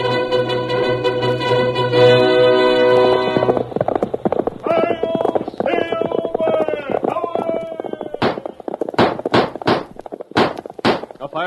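Galloping hoofbeats drum rhythmically under a brassy orchestral fanfare, a 1938 Lone Ranger radio show effect. A horse whinnies and voices are heard, and the hooves end in sharp, loud clops.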